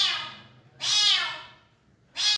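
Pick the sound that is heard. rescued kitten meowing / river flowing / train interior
rescued kitten meowing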